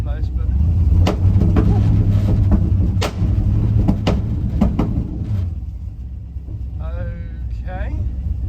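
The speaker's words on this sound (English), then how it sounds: "So on part throttle, it backfires really badly." An LS-swapped second-generation Pontiac Firebird with a carburetor is revved on part throttle. A loud, rough engine rumble carries several sharp backfire pops, then the revs die away as someone talks near the end.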